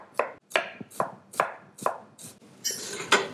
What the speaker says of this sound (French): nous allons tailler les légumes de base. Donc une taille assez fine.